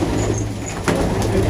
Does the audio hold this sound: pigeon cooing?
yes